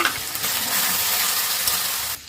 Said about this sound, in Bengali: এলাচ দারচিনি দিচ্ছি, টমেটোগুলো দিয়ে দিচ্ছি, আদা বাটা দিলাম